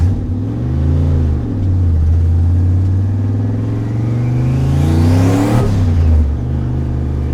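A C5 Corvette engine idles loudly up close, then revs up sharply in a rising roar before dropping back down.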